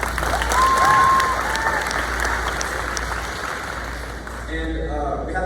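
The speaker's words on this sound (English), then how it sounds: "Give her a round of applause." An audience at a middle school girls athletics awards ceremony claps steadily for a district champion wrestler, with a broad wash of applause holding throughout and a brief voice near the end.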